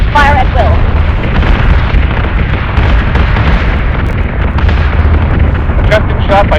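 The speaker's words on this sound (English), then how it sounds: "Set secondary battery. Full attack mode. Fire at will." A spaceship's secondary battery firing in Battlestar Galactica: Deadlock, a continuous loud roar of booming blasts and explosions with brief electronic tones at the start and end.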